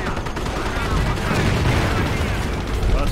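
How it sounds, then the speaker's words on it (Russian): Artillery barrage in the World War II strategy game Company of Heroes: dense, continuous rumbling booms and crackling gunfire blend into a heavy, unbroken roar throughout. "Так, артобстрел однозначно."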